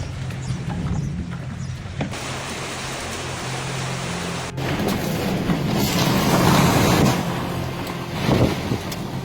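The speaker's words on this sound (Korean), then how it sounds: "해안 마을이 강풍에 뒤흔들리고 바다는 분노하듯 거센 파도로 뒤덮였습니다" Strong wind roars into the microphone over rough, crashing sea waves at a coastal village, loud and continuous with gusts swelling toward the end.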